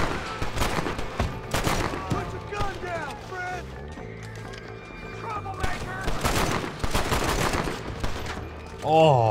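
Pistol gunfire in the video game Red Dead Redemption, repeated sharp shots in quick bursts mixed with game effects and music, with a player talking over much of it.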